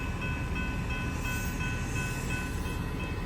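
A Metro-North passenger train of five cars runs on the rails with a steady, dense rumble and rolling roar, continuous and close, with no talk.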